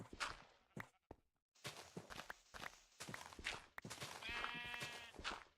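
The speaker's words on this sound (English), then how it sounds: "Little sheep, what are you doing in here?" Minecraft sheep bleat amid blocky footsteps, short game bleats repeating between quick stepping sounds, with a faint voice underneath.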